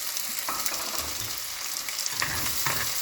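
Onions frying in oil in a pan, a dense continuous sizzle with crackling pops and occasional stirring scrapes, close and fairly loud with no talking.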